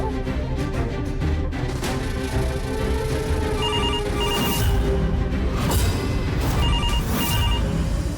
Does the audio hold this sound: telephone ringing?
yes